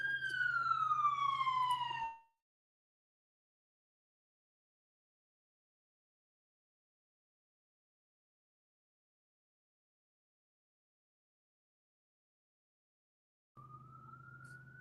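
An ambulance siren wails in a short falling sweep, then cuts to long silence before the wail briefly returns, rising, at the end.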